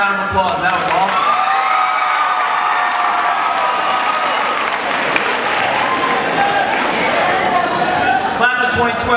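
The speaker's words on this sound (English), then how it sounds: "Give that young man a round of applause." A graduation crowd at a middle school ceremony bursts into loud applause and cheering, sustained clapping under whoops and shouted voices throughout.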